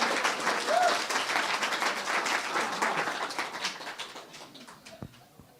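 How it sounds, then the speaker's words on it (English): Congregation applause at a church service, fairly close, many hands clapping and slowly fading toward the end, with a brief coo-like call and a faint voice near the start. "So round of applause for Shar, please."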